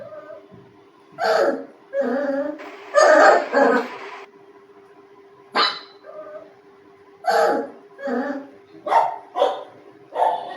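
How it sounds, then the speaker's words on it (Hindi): Dog barking played through a subwoofer: a series of about a dozen loud, resonant barks in uneven bursts with short pauses, some doubled, over a faint steady hum. "बूफर में एक डॉगी की आवाज़ चला दी"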